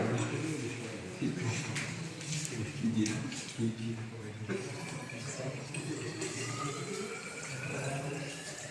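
Distilled water, 200 ml, poured into a large plastic measuring cylinder for soil testing: a gurgling, splashing fill runs steadily under a man's ongoing speech, with the pitch of the stream rising toward the end.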